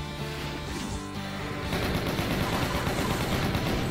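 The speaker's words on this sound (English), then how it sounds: "I need to save the machine gun fire for the actual pain elemental." Rapid machine gun fire in a Doom video game mod, a dense stream of close, punchy shots that grows heavier and more continuous partway through, with no talk over it.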